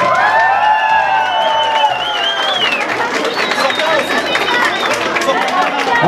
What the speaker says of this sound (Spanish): Aplausos de uno en uno.